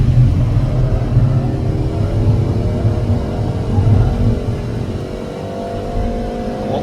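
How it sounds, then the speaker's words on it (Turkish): A Peugeot 308 GTI engine and exhaust in sport mode drones steadily and loudly from inside the car, its tone climbing gradually as if under acceleration, with no talk over it. "Sport modda kullanıyoruz ve egzozdaki tabii o sesin değişimi de insanı kışkırtıyor sanki."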